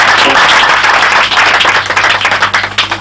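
Church congregation clapping together to acclaim the Lord at the opening service of an annex church in Belleville, a loud, dense, continuous wash of applause that thins slightly toward the end.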